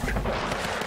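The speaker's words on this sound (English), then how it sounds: "Who's shooting at me like crazy?" Rapid gunfire in the video game Weird West, a dense, loud burst of overlapping shots and booms filling the whole short moment with no talking.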